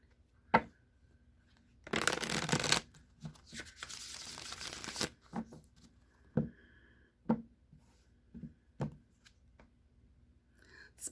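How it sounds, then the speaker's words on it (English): A deck of tarot cards being shuffled by hand: one long riffling burst, then several quick taps and short flicks as the deck is squared, cut and cards drawn, close and with no voices. "I'll draw 3 of these cards, starting with 3 shuffles, cut the deck, draw a card"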